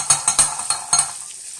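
Vegetables for a risotto sizzle in a pan while being stirred, with a handful of sharp scraping strokes close by that fade into a soft continuing sizzle.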